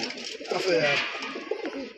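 Racing pigeons at a pigeon club loft cooing softly in short, low warbling calls, close and somewhat faint, with a voice speaking over them.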